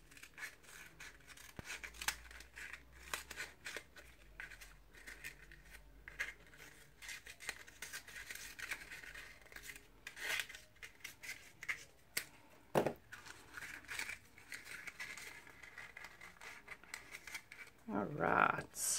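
Scissors snip and trim a paper craft piece for a mini witch's hat treat holder, giving soft scattered cuts with light rustling and a louder crunch near the end, under steady talk.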